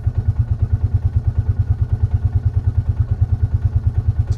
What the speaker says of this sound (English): She's idling smooth.